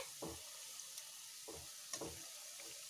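Salted cashew khurmi frying over a medium flame, a low hiss punctuated by several distinct stirring scrapes and light clatters as the pieces are turned, close and quiet with no voices.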